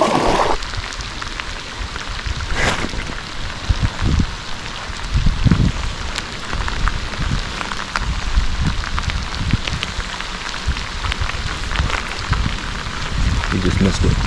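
Pouring rain falls steadily while fly fishing outdoors, a constant dense hiss of drops striking the surface close to the microphone, with a few clunks and brief talking now and then.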